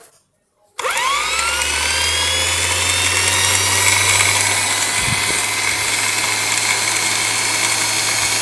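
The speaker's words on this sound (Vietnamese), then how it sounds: "động cơ chạy chuẩn, rất là êm" A 60V 1500W geared electric motor switches on after a short silence and runs smoothly at a steady, loud whine with a low hum, with no voices over it.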